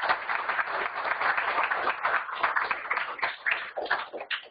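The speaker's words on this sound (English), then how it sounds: "so round of applause" Audience applause at a tech meetup about WebAssembly, a sustained wash of many hands clapping at steady, fairly close loudness, with no talk over it.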